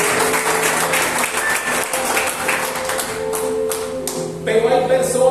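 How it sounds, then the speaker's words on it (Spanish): Applause from a church congregation fills the room, with a dense, steady wash of claps that swells near the end, over a sustained tone of music playing underneath. "Un aplauso a ustedes mismos."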